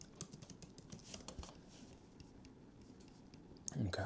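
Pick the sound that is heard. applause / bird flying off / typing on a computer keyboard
typing on a computer keyboard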